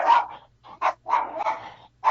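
Dogs bark in a series of sharp, close, loud barks, about four or five bursts with brief gaps between them, with no talk over them.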